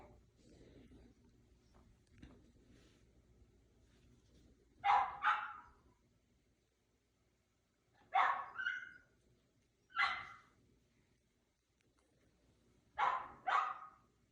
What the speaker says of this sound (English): Puppy outside is yelling, huh?